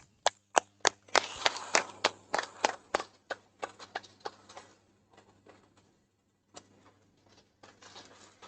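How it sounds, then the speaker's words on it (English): Sparse, crisp hand claps from a small group honouring the season's best bowler at a cricket club awards moment, starting with a few claps, swelling into a brief ragged burst, then thinning out into scattered claps with gaps. "Here's a round of applause for the best bowler of the season, Ranganath"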